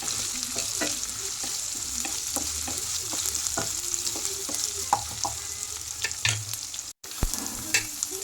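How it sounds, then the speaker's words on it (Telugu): Tempering seeds fry in hot oil in a pan for Mysore papu curry, a steady close sizzle and hiss dotted with small pops and occasional stirring clinks, with one brief dropout near the end. "మనం చేసుకున్న పోపు గింజలు, వేసేసుకొని వాటిని కూడా కొద్దిగా వేగనివ్వాలి"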